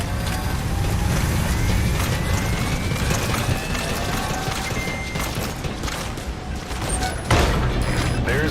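Sustained covering gunfire in the video game Metal Gear Solid V, a dense continuous barrage with mechanical clatter, loud and unbroken, ending in a sharper burst near the end.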